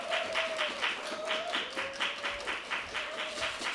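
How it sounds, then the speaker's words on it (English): At an open mic, an audience applauds after a poetry reading with a rhythmic patter of clapping that stays moderately loud and steady throughout, with no talk. "Another round of applause, please."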